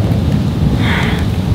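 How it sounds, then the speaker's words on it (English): A thunderstorm with steady, loud rain and deep rolling thunder rumbling continuously throughout, with a brief brighter rush of rain midway. "Now she's realizing the storm is really coming."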